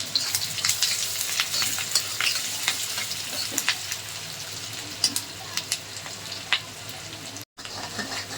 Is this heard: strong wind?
no